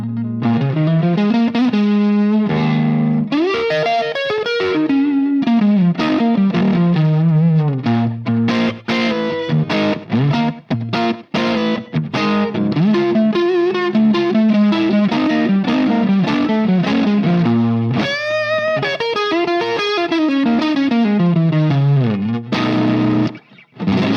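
Electric guitar run through effects for a bluesy tone with the guitar volume rolled back to around 5 or 6, playing a sustained, continuous lead line of bent notes and chords, distorted with chorus and reverb.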